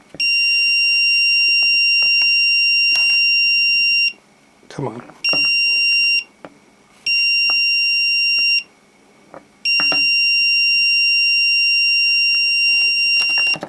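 A multimeter's continuous high-pitched electronic beep sounds in long stretches broken by short gaps, loud and close, while testing a shorted PCM from a Dodge Ram 6.7L diesel; a person speaks briefly between tones.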